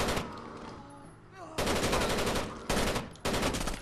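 Turret machine gun firing in Rainbow Six Vegas 2, loud sustained bursts of rapid automatic fire broken by short pauses, close and dominant.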